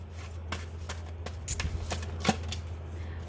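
Tarot cards being shuffled and drawn by hand, a close run of soft riffling slaps and flicks over a low steady hum.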